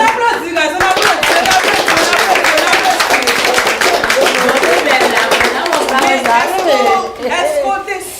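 Audience applause on the set of a Haitian reality show, dense and steady clapping filling the whole stretch with crowd chatter and cheering mixed in, dipping briefly near the end before picking back up.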